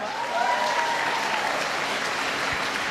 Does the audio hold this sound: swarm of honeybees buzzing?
no